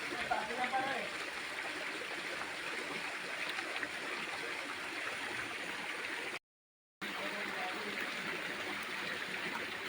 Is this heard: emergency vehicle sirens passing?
no